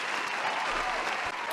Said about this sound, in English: Nuke, a round of applause for you.